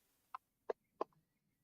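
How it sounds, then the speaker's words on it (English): A few chickens give three short, separate clucks, quiet and close, spaced about a third of a second apart, with near silence between them. "Chickens are really fun."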